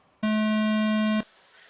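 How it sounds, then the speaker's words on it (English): A single loud, steady electronic start tone sounds for about one second for a race start, a pure buzzing beep that cuts off sharply into quiet background. "Going at the sound of the tone."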